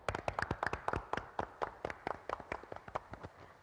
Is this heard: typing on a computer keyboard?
no